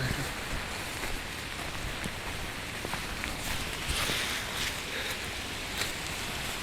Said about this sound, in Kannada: ಈಗ ಮಳೆಯಲ್ಲಿ ಹೋಗೋದೇ ಇರೋದು.